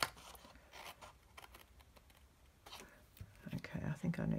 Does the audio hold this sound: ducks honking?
no